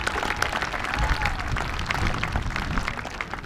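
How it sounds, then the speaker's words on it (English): A crowd at a senior awards night claps in a dense, continuous burst of applause, fairly loud and close, with some voices mixed into the clapping. "Let's give them a big round of applause."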